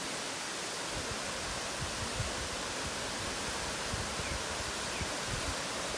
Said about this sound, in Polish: następny wodospad.